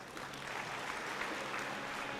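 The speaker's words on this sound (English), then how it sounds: "Give them a big round of applause" A crowd at a Brahma Kumaris event in Silicon Valley gives a round of applause before a skit, a steady, fairly distant wash of clapping that stays even throughout.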